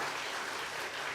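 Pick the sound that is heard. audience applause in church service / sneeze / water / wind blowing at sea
audience applause in church service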